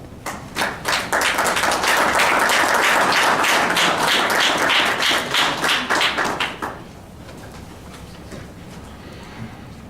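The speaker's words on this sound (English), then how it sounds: "Please give a round of applause" Applause breaks out at a city council meeting, a dense burst of many hands clapping in the chamber for about six and a half seconds before fading to quiet room noise.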